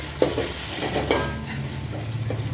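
Raisins and cashews frying in oil for a vegetable biryani, a steady close sizzle with a couple of sharp stirring clinks and scrapes from a utensil against the pan.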